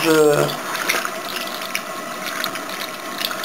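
A paintbrush is rinsed under a running tap, giving a steady, fairly soft hiss of flowing water with small clicks and splashes, after a brief voice at the start.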